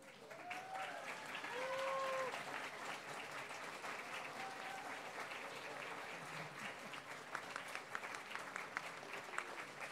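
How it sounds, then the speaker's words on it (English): An audience at a Christian school spring concert claps steadily for the stage crew, a moderate, even patter of many hands lasting throughout, with a few louder individual claps near the end. "Stage crew, we'd like you to come out so we can clap for you."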